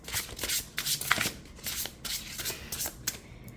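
Overhand shuffling of a deck of witch oracle cards, a close, soft run of rapid papery riffles and slaps that keeps going without a break.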